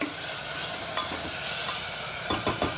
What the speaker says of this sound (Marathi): टोमॅटो पण छान परतून घ्यायचं तेल त्याच्यापर्यंत थोडंसं मी टाकते म्हणजे आपलं टोमॅटो लवकर स्मॅश होईल